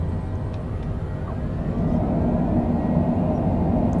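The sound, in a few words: Citation Longitude jet thrust reversers during night landing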